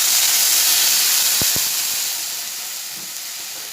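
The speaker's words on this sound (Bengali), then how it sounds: "জল দিয়ে দিচ্ছি।" Water poured onto hot fried potatoes in a pan bursts into a loud, close hiss of steam that slowly fades, with a couple of sharp clicks partway through.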